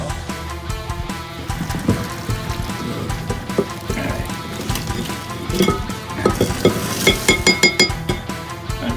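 Ramen noodles being stirred in a pot in a small home kitchen, with scraping, watery swishing and bubbling through the whole stretch, growing busier and more clattery near the end.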